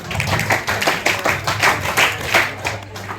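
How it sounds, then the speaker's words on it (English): An audience claps for an NCC contingent at a shooting championship award ceremony, a close, brisk round of hand claps with an uneven rhythm and a low hum underneath. "Please give them a huge round of applause."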